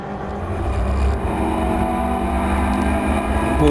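BMW E36 Compact Cup race cars with 1.9-litre 16-valve engines racing at Snetterton, a loud, continuous engine roar that swells as the cars pass close by, with no talk.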